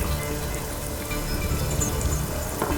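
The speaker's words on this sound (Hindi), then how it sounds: "अमू, इतनी बारिश में कहाँ जा रही हो?" Heavy rain pours steadily and densely on surfaces, a loud, unbroken wash of noise lasting throughout with a few brighter splashes near the end.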